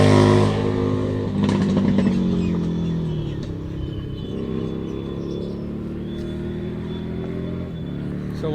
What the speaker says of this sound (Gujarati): એ ભાઈના જોડે કંઈક હાર્લી ડેવિડસન જેવું હતું